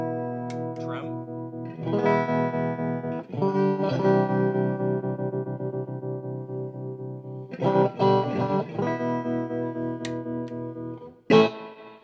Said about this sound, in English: Kind of a neat reverb.